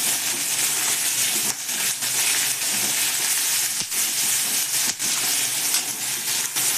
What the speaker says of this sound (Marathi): खूप नाही लाल होऊ द्यायचं पण तेलात छान परतून घ्यायचं